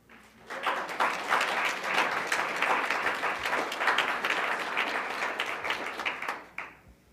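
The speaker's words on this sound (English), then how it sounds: "Let's give our career panel a big round of applause." An audience at a Canadian Club Toronto career panel luncheon claps steadily, a dense, even roar of many hands that swells in quickly, holds for several seconds, then trails off at the end.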